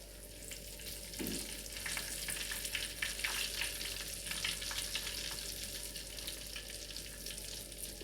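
Thinly sliced, coated chicken pieces fry in very hot oil for crispy chicken, a dense, continuous crackling sizzle with flickering pops that holds steady from start to finish, close by and with no one speaking.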